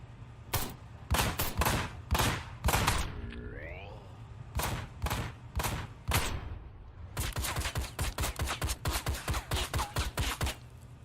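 SMG gunfire in the video game Ride to Hell: Retribution, loud sharp shots in short irregular bursts, then a long rapid string of evenly spaced cracks near the end.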